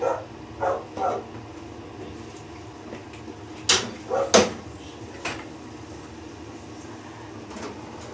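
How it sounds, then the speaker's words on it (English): A dog barks in a home kitchen while roast lamb and pork are cooking, with a few short barks early on and a sharper pair near the middle, all fairly faint and set apart from each other. "You can hear the dog barking"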